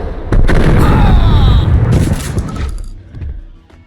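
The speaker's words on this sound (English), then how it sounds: "Diving through the air in slow motion while unloading a barrage of bullets never gets old." A noir video game shootout erupts with booming gunshots and a dense barrage of bullets, loud and close, ending in tinkling debris and fading echoes as a voice murmurs briefly.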